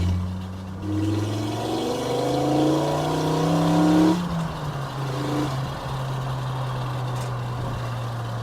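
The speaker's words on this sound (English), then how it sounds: "Don't mind the exhaust rattling against the ground." Mk2 GTI with a swapped five-cylinder engine driving, its engine drone rising under acceleration then easing off, with a loose exhaust rattling against the ground amid steady road and cabin noise.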